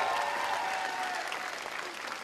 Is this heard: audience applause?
yes